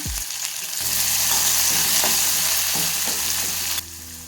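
Curry leaves hit hot oil for tempering in a jackfruit seed gravy, bursting into a loud, crackling sizzle that runs steadily with a few stirring scrapes before dropping off abruptly.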